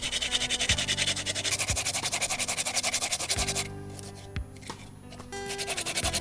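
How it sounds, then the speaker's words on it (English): Manioc root is scraped with a hand tool in a home kitchen, giving steady rhythmic rasping strokes, close and moderately loud, with no talking. "Now she is going to scrape the manioc."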